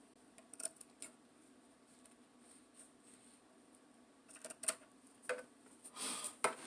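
Scissors cut fabric around a wooden bar stool seat, making faint, sparse snips that grow closer together and louder toward the end.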